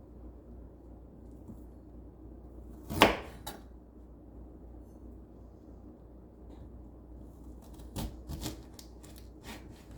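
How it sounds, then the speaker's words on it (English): A kitchen knife halves Brussels sprouts on a cutting board, heard as a few sharp, close chops, one loud cut near the start and a quick cluster of lighter taps later, over a quiet background. "Just going to cut off the stem. And cut them in half."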